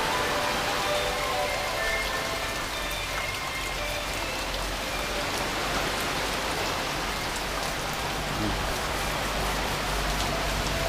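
Heavy rain during Typhoon Paeng, pouring steadily and loudly onto surfaces nearby, a dense unbroken patter with no talking.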